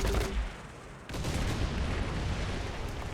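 Tank smoke grenades launching in War Thunder: a dense, loud burst of firing and rumbling blasts that steps up abruptly partway through and then holds as a sustained, rough roar.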